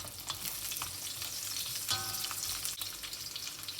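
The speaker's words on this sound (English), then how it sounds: "Okay, I'm adding the small onion." Small onions sizzle in a pan of hot oil with bay leaf, chili and fennel seeds for a crab masala, a steady close frying hiss with occasional stirring scrapes and no talking.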